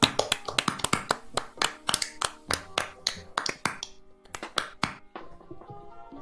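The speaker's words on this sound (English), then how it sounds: "Just everyone start clapping." A small group of people clap sporadically as a mock live studio audience, uneven bursts of close handclaps and snaps with gaps, thinning out toward the end.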